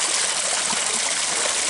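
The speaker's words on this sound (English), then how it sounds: "Little waterfall." A small waterfall in outdoor wetlands pours steadily, a continuous close rushing splash of water with no break and no voices over it.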